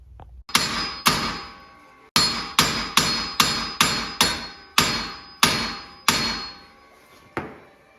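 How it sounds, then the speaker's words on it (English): Sharp metal hammer blows ring out about a dozen times in an uneven but steady rhythm, each one loud and close, as a wheel bearing is knocked out of a Subaru Forester steering knuckle. "You wanna just kind of pound somehow outwards to pull that bearing kind of out of that knuckle."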